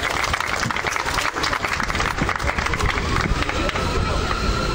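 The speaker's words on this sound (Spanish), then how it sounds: "Que se escuchen fuertes los aplausos," A crowd at a cultural exhibition event breaks into loud, dense applause for an honoree, sustained clapping mixed with background crowd noise throughout.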